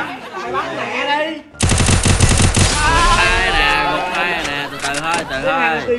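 Rapid automatic gunfire bursts in a shooting video game, a dense loud volley breaking out after excited shouting, with players talking and yelling over the continuing shots.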